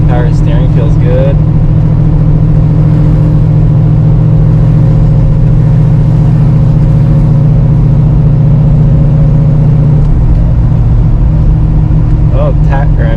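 A freshly rebuilt 1973 Camaro Z28, back on the road after 25 years, drones steadily and loudly while driving. A low, constant engine hum runs throughout, with people talking over it.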